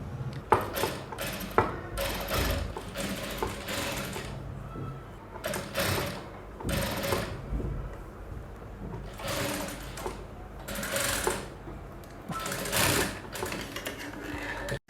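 A sewing machine stitches corset bra fabric in short bursts of rapid mechanical whirring, stopping and starting several times with quiet handling in the gaps, close up.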